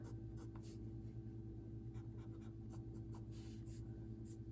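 Faint scratchy strokes of an Aurora 88 fountain pen on paper, short repeated bursts of scratching over a steady low background hum, close by.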